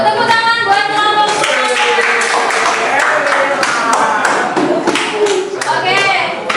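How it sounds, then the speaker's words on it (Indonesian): Classroom group clapping for a student group after a presentation, dense hand claps mixed with voices talking and chatter throughout, fairly loud and close. "Tepuk tangan buat kelompok."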